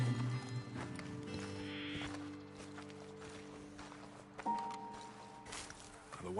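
Horses walk with clip-clop hooves in a video game, steady footfalls under ambient game sound and tonal music, with a soft sequence of steps throughout.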